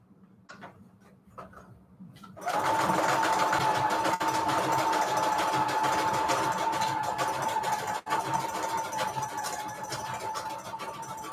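A sewing machine stitches through paper scraps, starting after a few light clicks and then running as a steady, loud, continuous mechanical hum with rapid ticking for several seconds.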